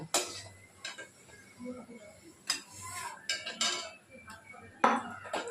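Hot fried sweet potato and coconut pithe being lifted out of a pan one by one, with irregular metallic clinks and scrapes of a spatula against cookware and a faint sizzle underneath.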